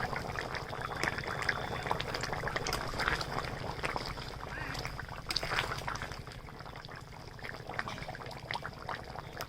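Taro and potato curry bubbling in a covered pot, a soft, steady watery simmer with faint trickling and bubbling throughout, fairly quiet and close, no talk.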